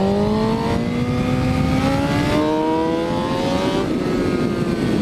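A motorcycle engine winds up in a loud, continuous rising whine, its pitch stepping at shifts as it runs close by.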